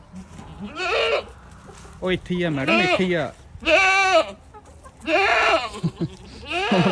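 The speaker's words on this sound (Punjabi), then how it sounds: "ਜਦੋਂ ਵੀ ਅੱਖਾਂ ਤੋਂ ਦੂਰ ਹੋ ਜਾਂਦੇ ਨਾ ਬੱਕਰੀ ਦੇ ਤੇ ਉਹਨੇ ਇਦਾਂ ਮੈਂ ਮੈਂ ਹੀ ਕਰਨਾ ਸ਼ੁਰੂ ਕਰ ਦੇਣਾ" Several loud goat bleats, wavering and nasal, come in repeated bursts close by, with a person speaking briefly between them.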